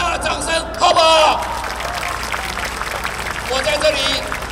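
Crowd applause at a political rally marking an anniversary of a student movement, a broad wash of clapping and cheering spread under crowd noise, swelling near the start and again toward the end, with a voice heard over it.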